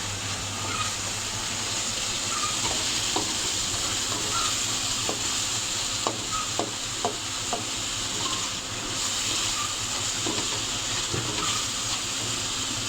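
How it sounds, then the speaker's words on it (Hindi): Spice masala of turmeric and ground coriander fries in a pot for a Lahori chana masala, a steady hiss and sizzle with scattered soft clicks of stirring, with no voices. "ये ऐड करके इसकी मिसाले की करेंगे बुनाई अच्छी तरह।"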